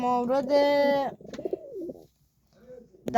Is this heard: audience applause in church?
no